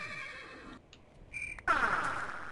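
A video game horse whinnies sharply, loud and close, after a few faint clicks and tones, then the call trails off over a soft background.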